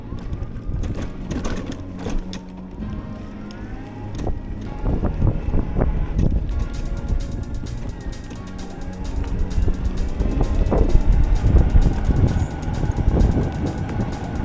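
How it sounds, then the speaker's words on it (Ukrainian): Steady wind rushing and whistling past the microphone while riding a tricycle in the city, with a constant low engine-like drone underneath. "Тільки свистить вітер."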